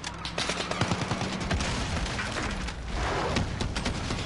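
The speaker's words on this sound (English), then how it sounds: "Oh my god, I think they have met grenade launcher." Grenade launcher blasts and rapid gunfire in a Call of Duty match, a loud, dense barrage of overlapping shots and booms running continuously throughout without pauses.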